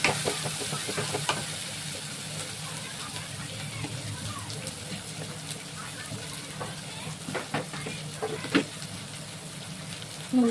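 Turmeric and Kashmiri chili sizzle and fry in a hot pan, a continuous hiss with scattered crackles and stirring scrapes, while someone talks over it.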